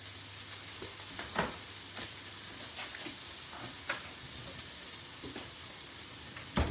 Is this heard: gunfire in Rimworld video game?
no